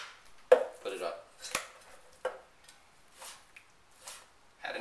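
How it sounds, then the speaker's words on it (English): A knife slices meat on a cutting board with a few sharp, spaced knocks against the wood, between quieter passages where someone talks. "I'm lifting the knife up each time, coming back and slicing, coming back, slicing."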